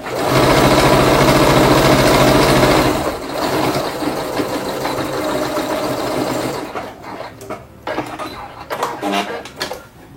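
A sewing machine stitching zigzag and straight stitches runs loud and close with a fast steady whir, then slows into shorter bursts and clicks.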